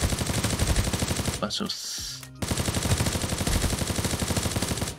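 Rapid automatic gunfire rattles almost nonstop through a mid-range firefight in the battle-royale shooter Knives Out, broken by a brief gap where a voice cuts in, then resuming in dense bursts.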